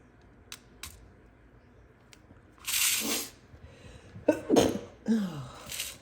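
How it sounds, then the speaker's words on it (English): A person sneezes sharply at close range, a loud burst preceded by a short intake, amid a few faint clicks and light handling noises. "Sneezing."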